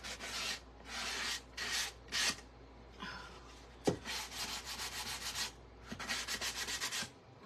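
Edge of a painted wooden pizza board being sanded by hand, a series of close, raspy rubbing strokes in short bursts with brief pauses, ending in quicker repeated scrubs.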